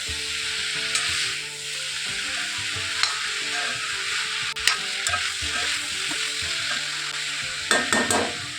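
Mixed vegetable sabzi frying in a pan while being stirred, a steady sizzle under repeated spoon scrapes and a few sharp clinks against the pan, close up with no voices.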